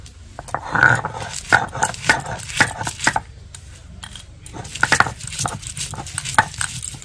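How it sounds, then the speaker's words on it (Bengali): Peanuts, dried red chillies and dry-roasted whole coriander seeds being ground together for sabudana pakora, heard as close, rhythmic crunching and scraping strokes with short pauses between bursts, without speech. "এই সব কিছু একসঙ্গে বেটে নেব"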